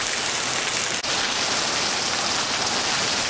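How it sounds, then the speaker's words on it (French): Heavy early-morning rain in Koulamoutou, Gabon, a dense, even roar of downpour filling the whole stretch, loud and close, with one brief dropout and no voices. "il est 6 heures du matin, et il pleut fort."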